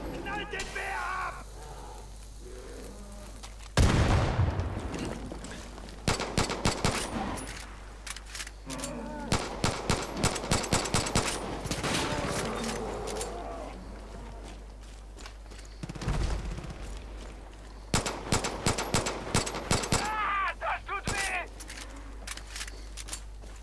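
Bursts of gunfire aimed at a bear in the video game Far Cry 5, with a heavy blast followed by rapid clusters of shots over a steady low game rumble.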